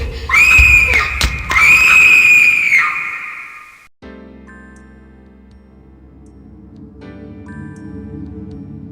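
In the 1993 horror puzzle game The 7th Guest, a frightened character screams loudly in two long, sustained cries, then a low eerie musical drone and tones take over.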